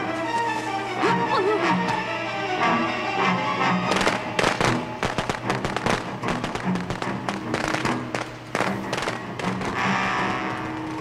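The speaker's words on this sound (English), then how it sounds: "just avoid some of that damn fireworks" Fireworks in a video game match burst in dense, loud, rapid cracks and thumps, firing in quick irregular volleys from close range.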